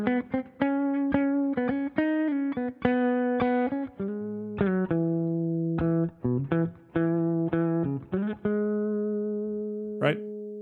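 Riff on clean electric guitar at a brisker tempo, quick picked notes sliding down chromatically, solo and close, ending with a brief strum.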